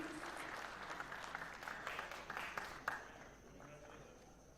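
Applause from an audience at a Kenyan taxpayers' awards ceremony, steady dense clapping that fades toward the end, with faint crowd murmur underneath.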